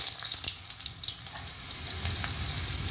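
Whole cumin seeds, bay leaf and chopped onion fry in hot oil left from frying eggs. A loud, close, continuous sizzle crackles steadily with scattered pops throughout.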